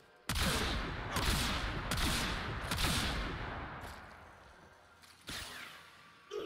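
Gunfire and explosions from weapons in the video game Warframe, used with impact damage mods: a series of sharp, loud bursts at uneven intervals, each followed by a decaying rumble, with a final blast near the end.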